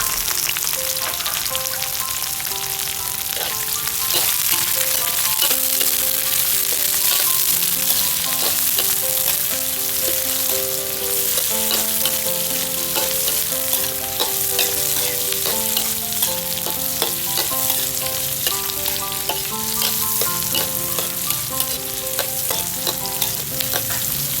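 Onions and sweet peppers stir-frying in a hot wok for a squid dish, a steady loud sizzle with frequent clinks and scrapes of the spatula against the metal, no voices.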